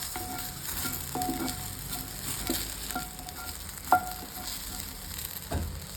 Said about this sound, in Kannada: ನೋಡಿ ಇವಾಗ ಇದು ಚೆನ್ನಾಗಿ ಫ್ರೈ ಆಗಿದೆ